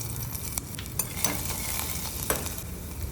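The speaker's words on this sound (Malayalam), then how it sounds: "ആദ്യം അരിഞ്ഞു വെച്ചിരിക്കുന്ന ഇഞ്ചിയും വെളുത്തുള്ളിയും കൂടെ ഒന്ന് ചേർത്ത് കൊടുത്ത് ഒന്ന് ചെറുതായിട്ട് ഒന്ന് വഴറ്റാം" Chopped ginger and garlic sauté with whole spices in hot ghee for a mutton curry, a steady close sizzle broken by scraping stirs and small crackles.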